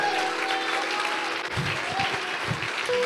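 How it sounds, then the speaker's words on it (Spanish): A church congregation claps during a Spanish-language sermon, a broad steady wash of applause with a faint tone or voice drifting underneath and a few low thumps midway. "Alguien debería darle un aplauso a Dios."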